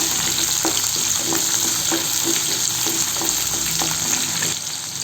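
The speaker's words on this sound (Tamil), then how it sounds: "ஒரு நிமிஷம் போல் இது வதங்கட்டும்" Onion and garlic sautéing in a pan for mint chutney, a dense steady frying hiss with faint regular stirring taps, easing off slightly at the end.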